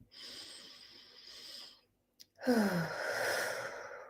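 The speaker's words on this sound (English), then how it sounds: "take a nice deep breath" A single slow, deep breath drawn in and released as a long audible sigh during a calm guided meditation, close and soft, after a brief pause.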